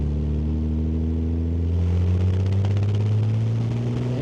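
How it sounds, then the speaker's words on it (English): A 1971 Jaguar E-Type Series 2 with a 4.2L engine and manual gearbox pulls hard in second gear, its steady engine drone rising in pitch under road noise from inside the car. "Engine runs great."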